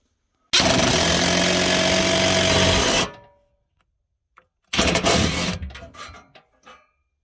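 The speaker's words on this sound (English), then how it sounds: "I'm just going to take some screws with some washers and screw it right in through the sides." A power driver drives screws fitted with washers through the sides of a wall safe into the studs, with one loud sustained whir of about two and a half seconds, a pause, then a second shorter burst that trails off.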